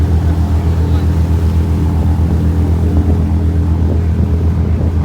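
A tour boat motor on the Upper Dells in Wisconsin drones loud and steady with a deep rumbling hum throughout, while people talk faintly underneath.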